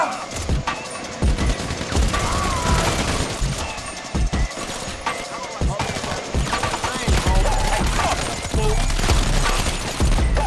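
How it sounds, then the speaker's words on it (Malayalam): Sustained automatic gunfire from the video game GTA 5, dense rapid bursts of shots that rattle on loudly and almost without pause for about ten seconds. "നേരെ ബാക്കിൽ കൂടി ചെന്നിട്ട് നമുക്ക് അവന്മാരെ ഫയർ ചെയ്യാം"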